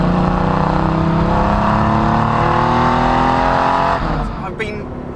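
A Porsche 964 RS clone driving, its engine revving loud and close with rising pitch through the gears, then easing off as the sound fades toward the end.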